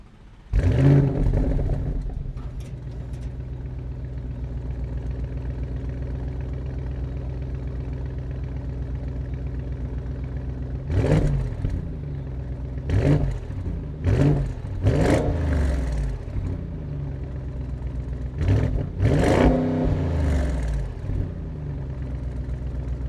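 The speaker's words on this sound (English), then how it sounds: "let's give it a start and listen to this exhaust note." A 2025 Audi SQ7 luxury SUV starts up with a loud burst and settles into a deep, steady idle, then several short throttle blips rise and fall sharply over the rumbling exhaust.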